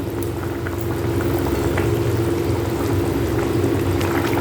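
A pot of cauliflower and potato curry gravy for rohu fish boils at a steady, even bubble, a constant close simmer with no talking.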